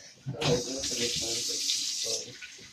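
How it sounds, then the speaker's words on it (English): A home shower runs while henna dye is rinsed from hair, a steady close spray of water that starts suddenly and continues, with people talking over it. "Go on, put the shower on."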